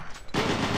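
Gunfire hits the player in the video game Doom 3 BFG, a sudden loud burst of rapid shots kicking in after a brief quiet moment and continuing to the end, with no talk.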